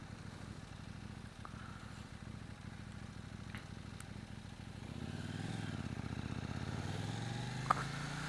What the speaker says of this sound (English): So that stock exhaust sounds okay, nothing crazy.